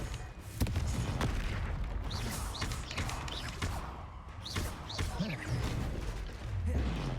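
Incendio and Confringo spell effects from Hogwarts Legacy crackle and burst in repeated bangs and whooshes at an uneven rhythm, mixed with game ambience.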